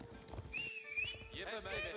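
Cavalry horsemen in a medieval real-time strategy game, with horse whinnies and clip-clopping hooves under continuous commentary speech, the neighs rising clearly at several points.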